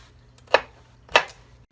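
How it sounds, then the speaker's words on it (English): A knife chops red and green peppers on a cutting board in a home kitchen, two distinct, crisp chops spaced about half a second apart against a quiet background. "I'm cutting up the red peppers and the green peppers"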